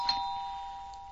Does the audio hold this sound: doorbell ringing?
yes